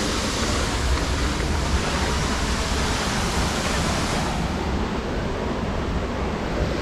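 Soochipara waterfall in a green forest setting, a steady, loud roar of rushing water that holds constant throughout with no break or talk.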